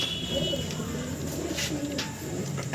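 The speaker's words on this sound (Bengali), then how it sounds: "এই হচ্ছে বাজির পায়রা" Fancy tumbler pigeons cooing softly in a loft, low repeated coos close by over a faint background hiss.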